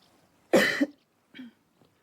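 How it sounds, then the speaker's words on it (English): A single loud cough, followed by a smaller throaty cough and a faint trailing breath, close and alone in a quiet room. "Cough for me."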